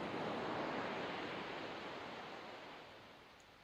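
Broad rushing surf of ocean waves, close and loud, washing in and slowly receding as it fades.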